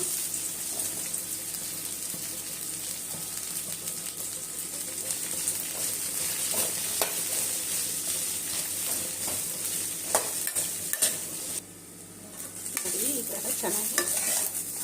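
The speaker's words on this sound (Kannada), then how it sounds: "ಇಲ್ಲಿ ನನ್ನ ಬಾಣಲಿಗೆ ಸ್ವಲ್ಪ ಎಣ್ಣೆ ಹಾಕ್ಕೊಂಡು ಬೆಂಡೆಕಾಯಿನ ಚೆನ್ನಾಗಿ ಹುರ್ಕೊಂಡ್ಬಿಡೋಣ" Okra frying in a little oil in a pan, a continuous close sizzle with frequent scraping and stirring strokes of a spatula throughout, briefly dipping before resuming, and no talk.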